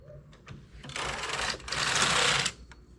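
A domestic knitting machine carriage sweeps across the bed knitting the first row of a sleeve, giving two loud, close rasping whooshes with a brief pause between, set off by soft clicks before and after.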